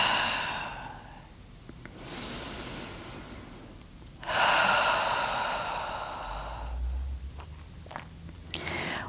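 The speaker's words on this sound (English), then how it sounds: "Inhaling through the nose and exhaling through the mouth for the first few cleansing breaths." Slow cleansing breaths drawn in through the nose and let out through the mouth, two long airy exhales standing out clearly in a quiet setting, with a faint low rumble near the end.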